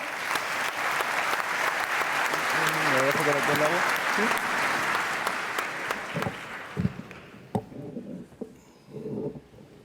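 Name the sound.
audience applause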